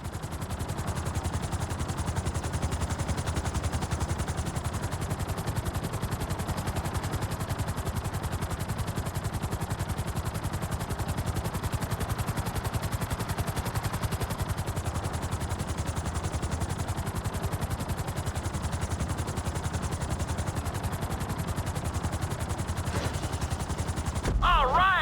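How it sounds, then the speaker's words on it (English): A helicopter in the video game GTA 5 descends onto a helipad, its steady engine and rotor roar continuous and loud throughout, with a faint change near the end as it touches down. "Bring the helicopter down gently onto the helipad."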